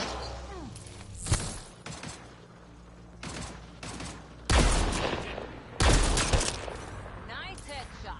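Gunfire erupts in the Mass Effect video game: loud, sharp bursts and scattered single shots separated by short pauses, each ringing with a mechanical, echoing tail.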